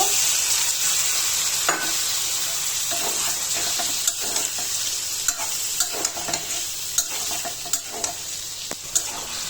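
Spices fry with potatoes and pointed gourd in a pan, a steady close sizzle broken by repeated scraping stirs of a spatula, with no talk over it.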